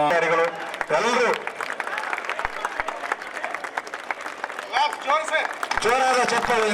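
A crowd applauds at the sports flag hoisting of a district-level government employees' sports meet in Raichur, a broad clapping wash under a loud amplified voice speaking over it.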